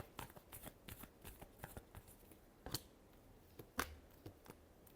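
Tarot cards are shuffled by hand in a quick series of crisp riffles and flicks, with a few sharper snaps standing out, close up and with no talking.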